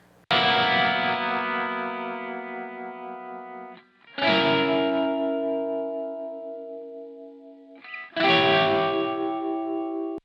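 Two distorted electric guitar parts recorded through a Line 6 Helix and panned left and right, playing together as three big strummed chords that each ring out and fade, with short gaps between them.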